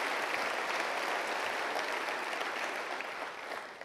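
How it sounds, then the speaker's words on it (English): Steady, dense applause from a large audience at a sports awards ceremony, continuous and even throughout, with no talk over it. "Let's give them one more round of applause here."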